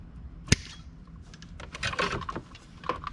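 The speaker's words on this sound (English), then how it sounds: "I'm going to cut this one." A radio wiring harness wire, the reverse input lead, snipped with wire cutters while installing a touchscreen radio in a Jeep Wrangler: one sharp, close snap, followed by soft rustling and handling clicks.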